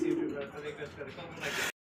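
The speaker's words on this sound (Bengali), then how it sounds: "আরও এক পেড় কবুতর" Pigeons, a pair of high-quality breeding pigeons kept for sale, coo softly in a few low repeated calls, heard close by alongside background voices and some rustling.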